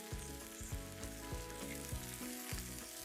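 Snoek fish sizzling on a braai grill, giving a steady close fry with a few soft knocks as the fish is turned.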